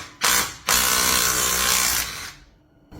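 Tool working on a plug in the thermostat housing of a 1967-1970 Ford Mustang, a brief burst, then a sustained loud mechanical whir close by for over a second that fades out, with a faint click at the end.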